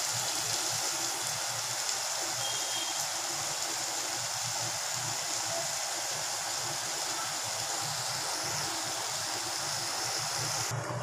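Gongura mutton curry with chilli powder bubbling in a pot, a steady broadband hiss of simmering that runs unbroken and fairly loud throughout, with no voices.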